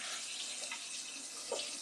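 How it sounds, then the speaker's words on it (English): A kitchen strainer rinsed under a running tap, with a steady, fairly soft stream of water splashing through the mesh into a sink and no talking. "And the strainer. Let me go ahead and rinse it out."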